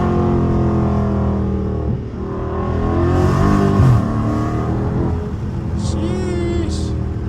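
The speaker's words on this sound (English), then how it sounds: "I gotta get some little downshifts." Dodge Charger Scat Pack on a bumpy city road at night, engine rumbling and surging through several downshift revs, loud and close, with a brief higher whine near the end.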